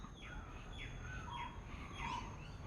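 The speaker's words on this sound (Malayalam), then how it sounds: "കാകനും പക്ഷികളും എല്ലാം ചേക്കേറാനുള്ള തിരക്കുമാണ്" Crows and other birds settling to roost at dusk beside a terrace vegetable garden, giving faint, repeated chirps and calls at a distance over a quiet background.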